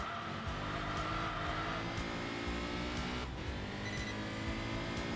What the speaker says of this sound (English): rumble of the flat 4.